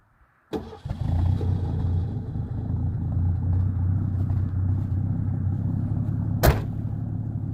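A car fitted with a single MagnaFlow muffler starts up with a sharp catch, then settles into a low, steady, muted idle rumble from engine and exhaust, with a brief click near the end.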